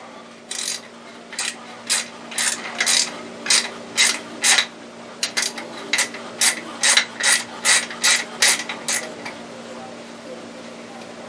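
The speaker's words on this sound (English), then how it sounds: "we're going to have to get the proper size Allen wrench, smaller than that one" An Allen wrench loosening a socket head bolt held by a nylon lock nut gives a steady run of sharp ratcheting clicks, about two per second, close by and alone over a low hum.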